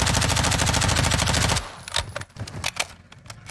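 A rapid, loud automatic-weapon burst in the video game Call of Duty: Modern Warfare II (2022), steady fast rounds for about a second and a half, then scattered single shots and clatter fading out.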